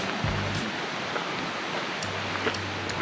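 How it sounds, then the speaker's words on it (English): Small waterfall in the Black Forest: steady broadband rushing of falling water runs through the whole stretch, with brief low hums and faint clicks over it and no speech. "Look at that little waterfall thing."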